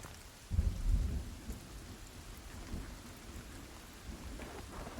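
Steady rain patters in the background while a deep rumble of thunder rolls in near the start, then fades under the continuing rainfall.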